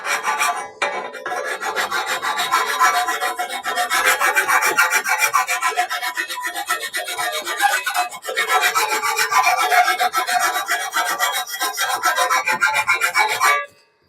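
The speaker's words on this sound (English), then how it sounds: "I'm just using the grinder to try and take the beefy bits off." An angle grinder rasps steadily across heavy, excess weld metal on a bicycle frame in a repair workshop, a harsh continuous grinding that runs close and loud for about thirteen seconds, then stops abruptly, with no voices.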